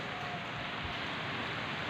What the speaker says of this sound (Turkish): Ay şu anda öyle bir yağmur yağıyor ki.